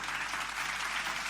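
A school audience at a student award ceremony gives steady, dense applause. The clapping is a continuous, even wash heard from a distance, fairly faint, with no voices on top.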